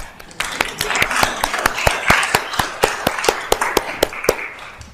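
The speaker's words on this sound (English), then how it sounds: "Let's give the Lord a mighty hand clap." A church congregation claps in a steady, evenly spaced rhythm, sharp loud hand claps repeating about three per second for several seconds with no voices over them.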